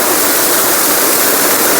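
A waterfall pours down a mountainside near Kedarnath amid landslide debris, a steady, loud broadband rush with no break and no voices.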